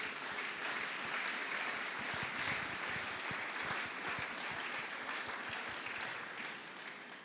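A church congregation applauds in a steady, full round of clapping that continues throughout and fades slightly at the end.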